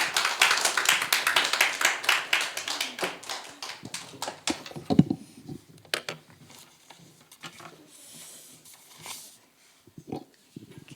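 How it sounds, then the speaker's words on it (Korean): A church congregation claps to welcome a missionary at a Sunday service in Gyeongju: a burst of close, lively clapping for a few seconds that thins into scattered claps and quiet room noise. "우리 성교사님 박수하겠습니다."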